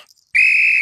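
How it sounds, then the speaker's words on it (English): A police whistle in a cartoon gives one loud, sustained, piercing shrill blast that starts abruptly after a moment of near silence. "when I blow my whistle"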